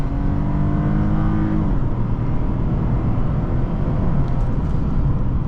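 A 2006 Lexus IS250 accelerates from inside the cabin, a steady loud engine drone with a rising whine early on, then settling into continuous road and motor noise.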